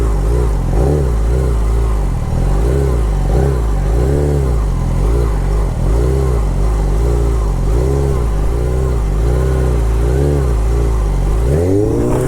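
A motorcycle engine revving over and over in a repeating cycle as the bike spins sit-down circles in a lot, loud and close, with a sharp rev at the end.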